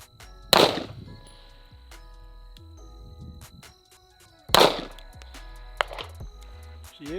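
Beretta 92Xi Launch Edition pistol firing at a shooting range: two sharp, loud reports spaced about four seconds apart, each ringing out briefly, with a smaller crack just after the second.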